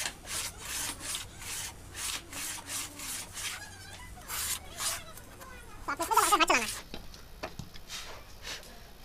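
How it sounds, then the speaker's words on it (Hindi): Hand plane stroking across a wooden saw gauge plate in a workshop, a series of repeated rasping strokes at a steady rhythm, close and moderately loud, with a person talking between strokes. "अब हम इस पर इसकी टक्कर पर इतना रंदा मार लेंगे"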